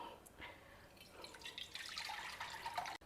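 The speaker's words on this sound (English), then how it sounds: "Just squeeze it out and we will extract the juice." Soaked tamarind, softened in hot water for about half an hour, squeezed by hand to press out its juice, giving close, wet squelching and dripping that grows busier toward the end.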